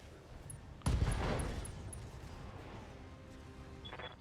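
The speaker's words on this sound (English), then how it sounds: "All weapons, fire." Mech weapons discharge in the Battletech video game, a large laser and long-range missile launcher firing together in one sudden loud burst that decays over about a second, followed by lingering mechanical rumble and a faint tonal whine near the end.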